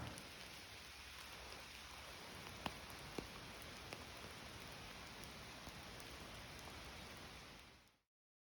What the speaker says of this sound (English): It's just begun a light rain shower.